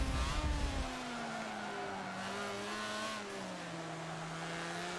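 Mazda RX-7 racing car in Forza 7, engine tones rising and falling through gear changes, a steady moderately loud drone after a short rougher burst at the start.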